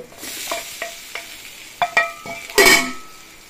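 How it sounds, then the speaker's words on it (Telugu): Masala frying in a pan for drumstick egg masala curry, stirred with a utensil: a low sizzle under a few scraping and clinking strokes, with a louder scrape near the end. "ఇట్లా కొద్దిగా వేగితే మసాలా దీంట్లోకి బాగా పడుతుంది"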